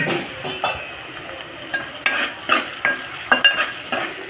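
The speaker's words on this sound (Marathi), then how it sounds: "आता आपण त्यात लसूण टाकून घेऊया." Garlic fries with softened onion in a pan, a steady sizzle broken by rhythmic scraping and clinking as a spoon stirs against the metal, close and clear with no talking.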